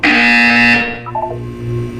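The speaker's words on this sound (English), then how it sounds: "When you hear the buzzer, look up at the ceiling." A loud electronic buzzer from the Portal 2 video game, one harsh sustained tone that cuts off abruptly, then quieter low tones and a faint humming background.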